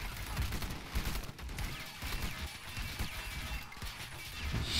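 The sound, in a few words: heavy gunfire in the video game Call to Arms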